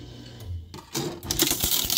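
A Tru Red 16-sheet mid-cut paper shredder grinds loudly and close, starting after a brief quieter lead-in and continuing as a harsh, crackling mechanical churn with sharp snaps, consistent with discs being shredded.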